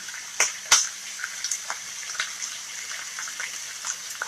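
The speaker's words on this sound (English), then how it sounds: "I'm having to wash the chicken off my hands." Tap water runs steadily into a sink while someone rinses raw chicken off their hands in a home kitchen, with a few splashes and clinks over the flow and no talking.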